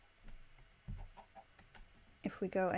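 Chickens in a modded Minecraft-style video game give a few quiet clucks, soft and intermittent, followed by a louder, sharper squawk-like burst at the end.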